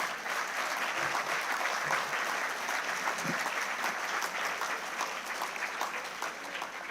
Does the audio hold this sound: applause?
yes